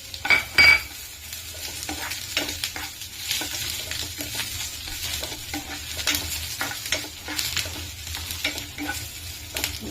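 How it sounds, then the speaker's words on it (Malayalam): Garlic and tamarind frying together in a pan for a peanut chutney, with a continuous sizzle broken by repeated scraping stirs and a few metallic utensil knocks close by. "വെളുത്തുള്ളി മൂത്ത് വരുമ്പോൾ ഈ പുളിയും കൂടെ അങ്ങോട്ട് ഇട്ടിളക്കാം."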